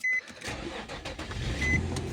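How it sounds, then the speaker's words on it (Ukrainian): An Infiniti FX35 engine cranks briefly and catches, then settles into a close, steady running rumble; no one speaks. "Запускаємо автомобіль"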